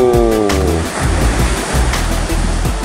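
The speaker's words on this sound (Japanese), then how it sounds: "ホームポイントは波ありますね。" Waist-to-chest-high ocean waves breaking mid-point at a surf spot in Hagi, Yamaguchi, in almost no wind, a loud continuous wash of surf with rolling crashes and no voices.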